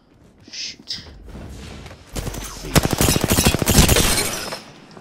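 Automatic gunfire rattles in an Apex Legends match: a couple of short bursts, then a dense, loud stream of rapid shots that continues to the end, close and punchy.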